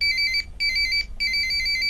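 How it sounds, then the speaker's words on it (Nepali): A mobile phone rings for an incoming call, a bright repeating electronic ringtone in three bursts with short gaps, loud and alone without talk. "फेरि प्रदीपको फोन आयो"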